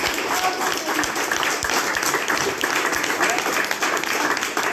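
Steady crowd applause at a French billiards championship, many hands clapping continuously for several seconds.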